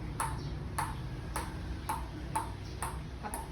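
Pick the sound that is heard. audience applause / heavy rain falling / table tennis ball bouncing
table tennis ball bouncing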